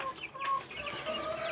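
Rhode Island Red chickens on a free-range farm cluck softly in brief overlapping calls, with a faint rooster-like note, at a low level without talk.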